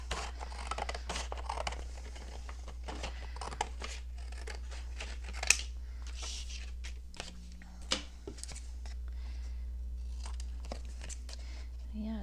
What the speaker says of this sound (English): and then I just cut them out. I'm going to cut all three out and see.